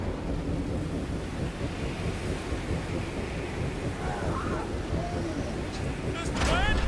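Strong, roaring wind gusts in the video game Marvel's Guardians of the Galaxy, a steady dense rush throughout that swells louder near the end, with faint voice-like tones and effects layered over it.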